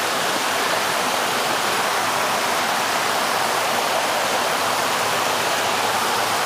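River water rushing steadily near a forest waterfall, a dense continuous roar with no pauses, close and loud throughout with no voices.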